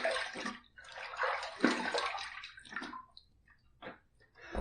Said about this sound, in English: Let's splash a little water on the face.